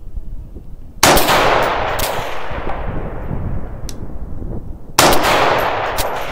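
Two sharp, loud rifle shots fired at a 600-yard target on an outdoor range, the first at about one second and the second near five seconds, each cracking then decaying into a long rumbling echo.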